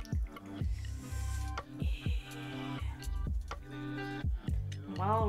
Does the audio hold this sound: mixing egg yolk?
no